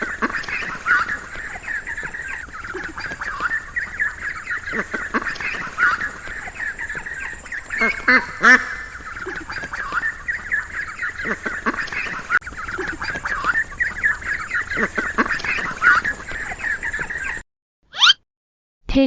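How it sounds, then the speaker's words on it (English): A duckling quacks constantly for nearly twenty seconds, its calls loud and close in fast, bright bursts with brief pauses, ending in silence and a last few peeps. "duckling,"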